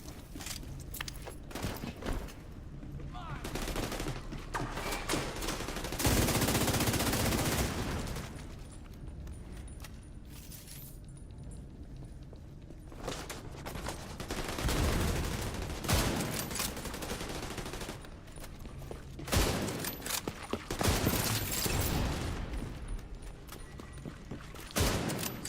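Gunfire in The Division from a sniper rifle, with loud crackling bursts of shots that come back again and again over a running game soundscape, without a voice.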